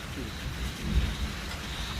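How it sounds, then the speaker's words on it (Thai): Thunder rumbles low and close during a heavy rainstorm, with a steady hiss of rain falling throughout and a deeper boom near the middle. "ฟ้าร้องฝนตกหนักมากแล้วค่ะ"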